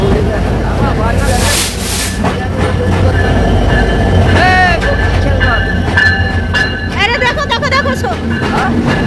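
A fast train between Jashore and Dhaka rumbles steadily along the tracks with rattling wheels and occasional metallic squeals, while a voice talks over the continuous noise.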